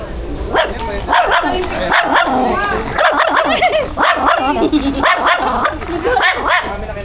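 A dog barks repeatedly in short bursts, fairly close, with people talking over and between the barks.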